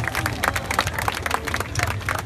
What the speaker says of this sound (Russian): Юрий, ваши аплодисменты.